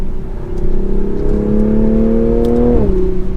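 A 2024 Toyota GR Supra 3.0 engine with ZF 8-speed gearbox drones loudly and steadily, its pitch climbing smoothly as it accelerates, then shifting down briefly near the end.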